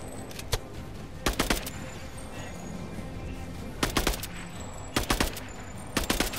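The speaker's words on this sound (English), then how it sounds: "But the thieves keep shooting at us. So I'm shooting them back." Bursts of gunfire in a video game shootout with thieves, arriving as several short volleys of rapid shots spread through the clip over a steady low background.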